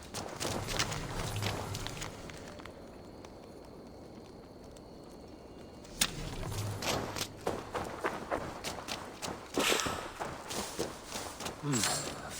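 Horse hooves clip-clop in the game Assassin's Creed Valhalla, a steady patter of footfalls with bird calls and ambient game sounds, pausing briefly midway before resuming.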